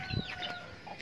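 An Aseel hen with chicks clucks softly nearby in a short, faint burst of a few throaty notes.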